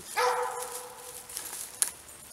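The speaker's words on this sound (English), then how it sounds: "The barking dog, by the way, in the background" A single dog bark with a drawn-out, whining tone, somewhat distant, followed by faint background noise and a small click.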